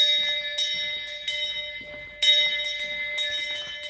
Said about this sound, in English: I'm going to grab a bell.